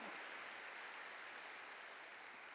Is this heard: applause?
yes